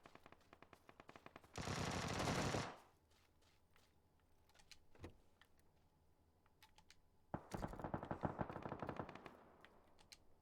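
Rapid automatic gunfire from the video game PUBG comes in two sustained bursts, one brief and dense, the other longer and more ragged, with scattered single shots and faint clicks between them at moderate level.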